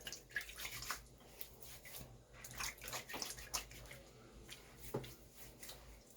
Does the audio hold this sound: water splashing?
yes